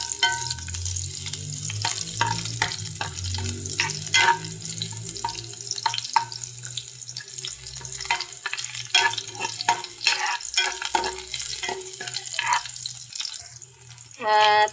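Onions sautéing in a pan for squid adobo, a soft continuous sizzle with scattered clinks and scraping of a utensil, moderately quiet, a brief louder burst at the end.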